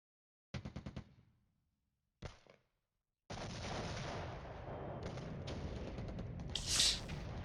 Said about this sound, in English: we're going to obliterate this area with, hopefully, large amounts of artillery